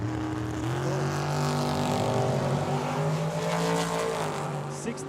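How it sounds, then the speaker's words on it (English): Drag racing car at Tucson Dragway during a bracket event, a loud sustained engine roar with shifting harmonic tones running straight through, close and continuous. "The dragster trying to play catch up."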